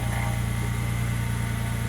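A vehicle motor runs loudly up close, giving a steady rough idle with a regular low pulsing beat and the faint unevenness of a slight misfire, while pulleys add a constant whine.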